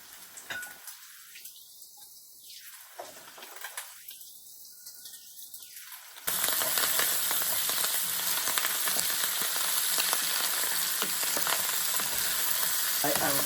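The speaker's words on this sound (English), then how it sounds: "I'm now going to add my other vegetables to this." Vegetables hit a hot pan of golden-browned ingredients for peri peri chicken pasta, and after a quiet start a loud, steady sizzle and crackle of frying fills the rest of the clip.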